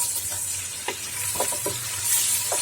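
Green chili, ginger and garlic paste sizzling in a hot pan, a steady hiss with a few soft scraping stirs, close and moderately loud.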